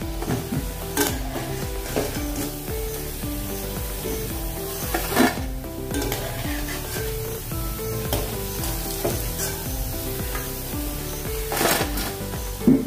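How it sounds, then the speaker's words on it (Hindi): Mung dal pakodi batter frying in hot oil, a dense continuous sizzle and crackle with intermittent scrapes of a utensil against the pan, steady and close throughout with no talk. "ऐसे अभी हम सभी सारण को तल लेंगे, यानी पकौड़ी तैयार करेंगे"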